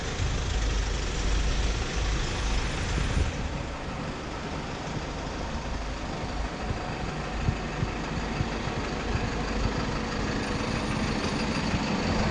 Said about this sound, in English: Ahead of us we've got 3 lanes of A3 traffic.